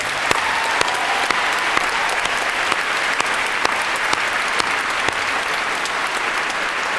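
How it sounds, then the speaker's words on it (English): A theatre audience gives a final round of applause for a community cast after a performance of Cathy Come Home, loud, dense and sustained clapping from a full house with no pauses. "Can we have one last round of applause, please?"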